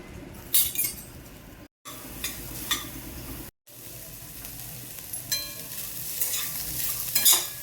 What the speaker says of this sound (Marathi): सर्वात प्रथम आपण कढईमध्ये स्वीट कॉर्न घालून थोड्याशा तेलामध्ये भाजून घेऊ।